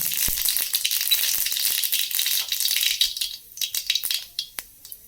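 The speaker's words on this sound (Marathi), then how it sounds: "तर आपलं तेल तापलेलं आहे आपण आता त्यात मोहरी घालूया" Quarter spoon of mustard seeds hitting hot oil for tempering, a dense close burst of sharp crackling and popping that gradually thins into sparser pops.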